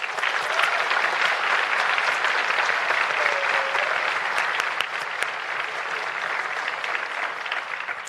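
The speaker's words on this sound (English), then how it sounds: "a round of applause." Sustained, dense applause from a class night audience at a 2024 graduation celebration, a steady roar of clapping hands filling the room without a break for about eight seconds.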